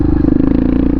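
A Honda XR650R on supermoto wheels riding by, a loud, close single-cylinder engine drone with a rapid pulsing beat and rattly mechanical clatter, steady throughout.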